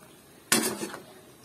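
A spatula clatters once against a pan while stirring tofu and kangkong adobo, a short bright metallic scrape and clank surrounded by quiet.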